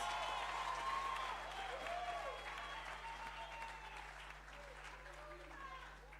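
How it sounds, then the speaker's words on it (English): An audience at a memorial lecture claps warmly, a steady wash of hands fading slightly toward the end, with voices and cheers mingled in the crowd. "Surely you can give them another warm round of applause."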